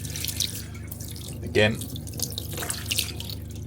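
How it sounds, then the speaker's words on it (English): Icy cold water runs from a motorhome tap with a steady, moderate splashing hiss, partly under a person speaking nearby. "That water's icy cold, so it definitely doesn't feel like anything coming out the boiler."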